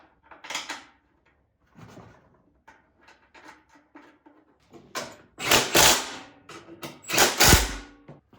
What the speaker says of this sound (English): Kind of just shake the machine, get those to line up.